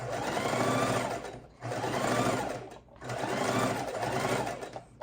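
A sewing machine runs a straight stitch across fabric for a mitten, three steady whirring bursts of about a second and a half each with brief pauses between, close and clear with no talking.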